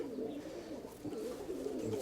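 A paired pigeon and its hen coo in a loft, a low, soft, murmuring call repeated over a couple of seconds, close and fairly quiet.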